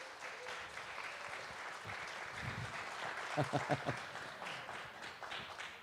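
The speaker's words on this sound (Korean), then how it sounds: "박수로 맞이해 주십시오" An audience at a children's traffic safety speaking contest claps to welcome an elementary school safety-patrol team, a continuous, fairly soft round of applause with a few sharper nearby claps and faint voices mixed in.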